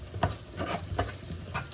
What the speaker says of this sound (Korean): 중간중간에 면이 달라붙지 않게 이렇게 휘휘 저어주는 것도 정말 중요해요